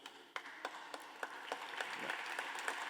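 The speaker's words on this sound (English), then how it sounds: "They deserve a round of applause" Crowd applause at a 2023 gala dinner, steady clapping that builds with sharp individual claps standing out, moderately loud and continuous.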